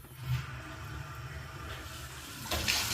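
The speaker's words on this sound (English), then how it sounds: "I'll turn the water on up there." A tap upstairs in a house under renovation runs water in a steady, close rush that swells louder near the end, with no voices.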